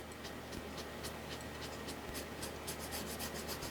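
Steady, close-up rasping of a sandpaper block rubbed back and forth over wood in quick repeated strokes, continuous and fairly quiet with no talking.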